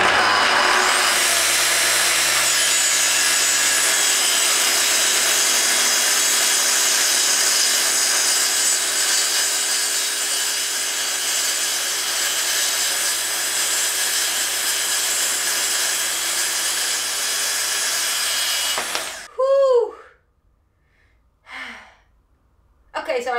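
A saw cuts through a thick wooden furniture leg about 4.5 centimetres wide, a loud continuous close grinding drone lasting nearly twenty seconds, then stopping abruptly and followed by a few heavy breaths and sighs.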